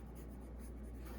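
Pencil drawing a mouth on paper, a soft continuous scratching and scraping close by, steady and quiet for the whole moment with no talking.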